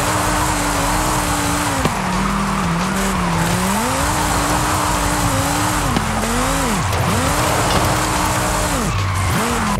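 Drift car tires squeal in Forza Horizon 5, a loud continuous wailing screech that bends and swoops in pitch over a steady engine drone, dipping briefly between slides.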